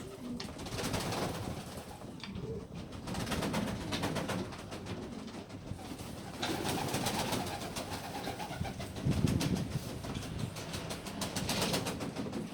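Pigeons cooing repeatedly in a coop, soft low calls overlapping amid a busy background rustle and flutter, close by.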